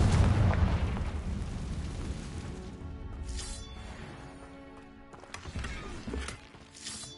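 A Confringo spell blast in the Hogwarts Legacy video game lands as a loud deep boom at the start, then a rumbling tail decays, with smaller bursts and crackles following later.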